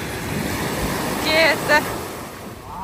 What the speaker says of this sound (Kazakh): Ой, мұхит!